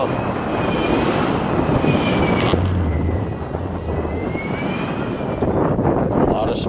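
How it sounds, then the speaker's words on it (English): A loud, continuous J79 jet engine roar at an airshow with a high whine, steady throughout with a brief burst near the middle. "Hear the sound of a J79 jet engine."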